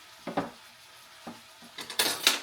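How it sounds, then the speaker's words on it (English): Crispy shrimp are stirred in a hot pan for firecracker shrimp, producing a few quick scrapes and clinks of a utensil against the pan over a faint sizzle, close and fairly quiet. "Give this a quick little stir."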